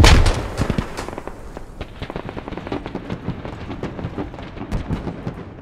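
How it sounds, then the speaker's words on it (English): A grenade explodes in the Squad video game with a loud opening boom, followed by a dense stream of sharp cracks and gunfire-like pops from the battlefield at a moderate distance. "I'm gonna throw a grenade at this."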